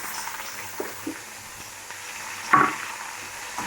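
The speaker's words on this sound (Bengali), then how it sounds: "এটা আমরা ভালো করে লাল লাল করে ভেজে নেবো।" Bitter gourd and ginger frying in a pan, with a low, steady sizzle broken by a few stirring scrapes and one brief louder crackle, heard up close without speech.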